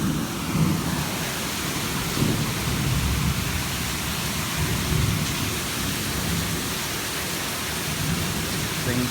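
Heavy rain pours down steadily in Sherman, Texas during a storm, a dense, constant roar of rainfall with low rumbling underneath, loud and unbroken throughout.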